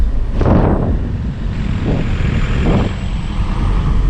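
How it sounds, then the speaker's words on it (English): A VW Golf Mk4 Variant 1.9 TDI (AXR engine) with its EGR valve deleted runs with a steady, loud engine drone, while several turbo whooshes rise and fade over it. "Definitely hear a lot of turbo sound from the front."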